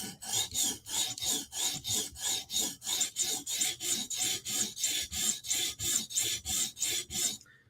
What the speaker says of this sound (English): Sharpening a really cool knife.